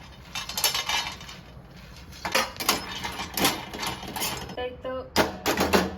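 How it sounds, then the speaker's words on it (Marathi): Dry fox nuts (makhana) clatter and rattle against a metal pan as they roast, with irregular bursts of light clinking and scraping over several seconds, fairly close and clear. "सगळ्यात अगोदर मी मखाना भाजून घेते"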